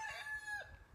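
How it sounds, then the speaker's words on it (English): Denny, a rooster kept on a Prince Edward Island aquaponics farm, lets out a single clear crow up close, the call rising and then breaking off within about a second. "Denny the Rooster says hello, wants to remind you that he's still around"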